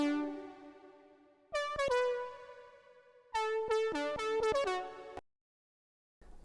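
A Serum synth main lead with saturator plays a bright, harmonically rich melodic line from a long held note into a quick rhythmic phrase, solo and moderately quiet, then cuts to silence.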